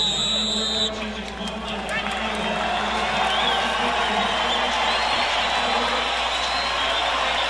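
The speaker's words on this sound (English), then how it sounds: "Crowd rises to applaud what they've seen so far" A boxing arena crowd applauds between rounds at the Vernon Forrest vs Ricardo Mayorga rematch. The clapping and cheering form a steady, dense roar that fills the hall without a break.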